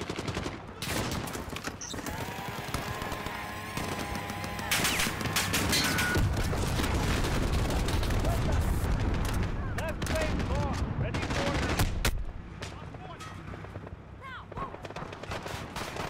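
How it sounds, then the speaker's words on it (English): Dense gunfire in Call of Duty: Modern Warfare, rapid overlapping automatic bursts and booming shots that build into a heavy, continuous barrage before thinning out, with people talking over the fighting. "Somebody shooting us from the back."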